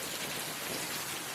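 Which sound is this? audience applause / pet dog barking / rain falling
rain falling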